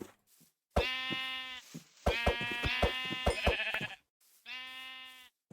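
Sheep in the video game Minecraft bleat in three clear, loud, wavering calls, separated by short pauses, with no talk over them.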